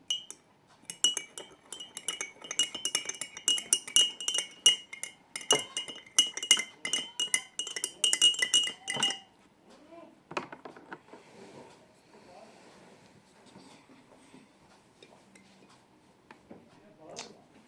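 A spoon stirs inside a glass during a home experiment, producing rapid, bright clinks for about nine seconds before fading to a few quieter taps and soft handling noise.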